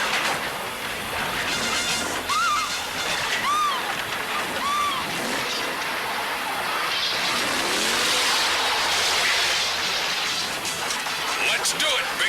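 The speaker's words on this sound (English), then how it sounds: "How'd the bad guys get a monster truck?" The monster truck Bigfoot's engine roars and surges through a film scene, mixed with voices talking and bright warbling effects.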